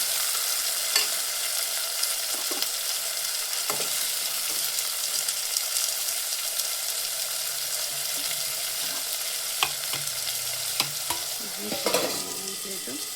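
Tomatoes cook in hot oil in a pan with a continuous, even sizzle up close, broken by occasional light ticks and scrapes of stirring, with no voices.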